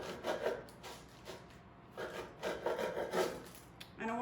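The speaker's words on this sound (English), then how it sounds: "I have a bread knife, see it has the serrated edge." Serrated bread knife sawing through a baguette into diagonal rounds, a series of close, quiet, raspy strokes with short pauses between them.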